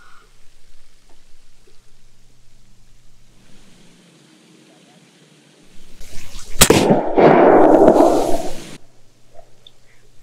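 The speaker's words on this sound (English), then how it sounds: "we're gonna use this Umarex 22 caliber and shoot the first bottle on the left" Umarex .22 caliber air rifle fired at a plastic bottle target, one sharp crack followed at once by a loud burst of rushing, spraying noise lasting a couple of seconds, outdoors and otherwise quiet.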